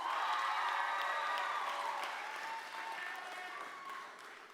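Sustained applause from a large audience at the Washington FFA state convention, a dense, even wash of clapping with light cheering that slowly tapers off over several seconds.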